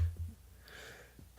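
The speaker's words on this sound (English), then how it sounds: "Ooh, I had to sneeze." A single stifled sneeze, short and muffled, in a quiet room with soft breathing around it.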